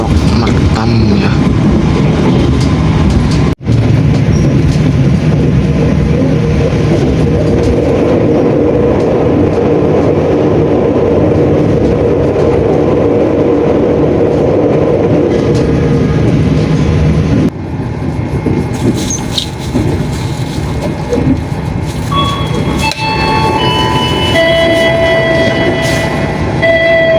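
A KA Fajar Utama passenger train runs on the rails in Indonesia, a loud continuous rumble and rattle heard from on board that grows lighter and brighter near the end with a brief click partway through.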